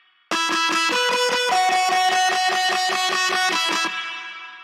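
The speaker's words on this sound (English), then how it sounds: "So this reverb really helps to kind of bring the guitars alive a bit" A bright, distorted synth guitar plays a steady run of rapid repeated chords, shifting pitch twice, then rings out with a reverb tail.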